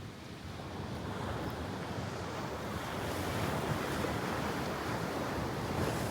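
Sea waves wash steadily onto a beach shore, a broad continuous roar of surf mixed with wind buffeting the microphone, no voices.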